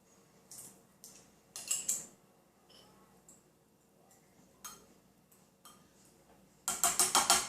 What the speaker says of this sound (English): now we go and put 2 tablespoonfuls of our pizza sauce on top of that